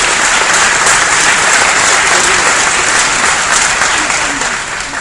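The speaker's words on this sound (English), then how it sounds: "I want you guys to give yourselves another round of applause." Loud, sustained applause from a large developer conference audience fills the room, steady throughout and fading slightly at the end.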